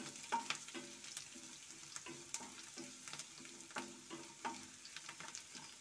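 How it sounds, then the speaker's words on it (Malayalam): Ginger frying in a pan for a sweet mango curry, a soft, faint sizzle under a steady rhythm of spoon scrapes and taps, heard close with no voices. "എന്നിട്ട് നല്ലപോലെ ഒന്ന് മൂപ്പിച്ചെടുക്കണം"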